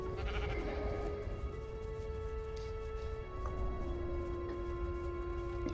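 Sheep bleat in the Minecraft Story Mode video game, a drawn-out wavering bleat sounding over a steady droning game soundscape, with a second call later on.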